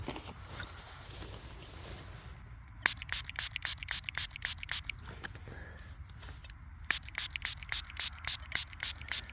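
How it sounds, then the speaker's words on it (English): Repeated quick squirts from a spray bottle spraying deionised water on a Celtic stater coin, a steady run of short hissing bursts with a brief pause midway, close and fairly loud. "let's give that a little spray up"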